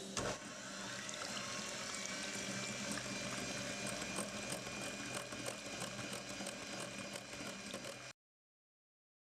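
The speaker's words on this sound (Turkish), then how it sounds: "Şimdi beyazı az bir tuzla çırpıyoruz." An electric mixer whisks egg whites with a little salt, a steady close whirring hum lasting about eight seconds before cutting off abruptly.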